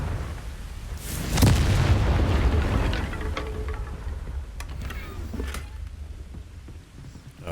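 A Confringo fire spell in Hogwarts Legacy bursts into a loud, deep boom, then a rumbling blast that slowly fades into a long, crackling tail.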